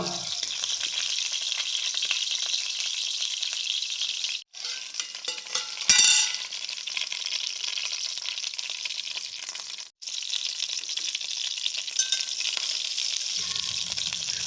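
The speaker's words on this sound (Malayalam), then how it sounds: "ഇതൊന്ന് എണ്ണയിൽ കിടന്നിട്ട് നന്നായി ഒന്ന് ഫ്രൈ ആയി വരട്ടെ കേട്ടോ" Brinjal pieces sizzle steadily in hot oil in a pan for a north Indian style brinjal curry, a dense continuous crackle broken by two brief pauses and a short clatter near the middle.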